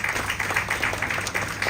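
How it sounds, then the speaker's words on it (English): Audience applauding after a yoga demonstration at a cultural centre event, a steady wash of many hands clapping at moderate distance, continuous and fairly even. "A big round of applause, ladies and gentlemen"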